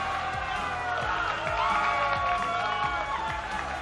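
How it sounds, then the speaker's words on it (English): An audience at a competitive gaming grand finals event applauds and cheers. A steady wash of crowd noise with whoops runs throughout, moderately distant, and an announcer's voice rises over it. "Give them a round of applause."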